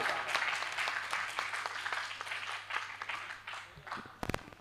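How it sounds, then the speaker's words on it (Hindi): Applause from a live audience at a Hindi poetry recital as a poet is welcomed onto the stage, a dense, steady patter of many hands clapping for several seconds with a few louder claps near the end. "तालियों से उनका स्वागत करें।"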